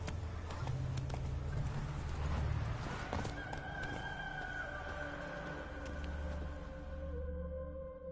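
Hooves of Roach, a horse in a video game, clip-clopping at a trot, with a whinny and light game ambience underneath, close and continuous.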